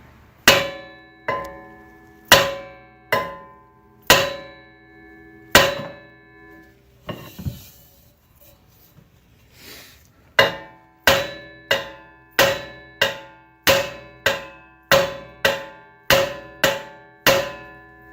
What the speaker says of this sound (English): we keep hitting around until it loosens up